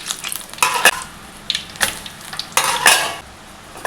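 Murukku, a Tamil spiral snack, frying in hot oil, with scraping and stirring clinks of a metal utensil against the pan over a soft bubbling sizzle, in several bursts close by.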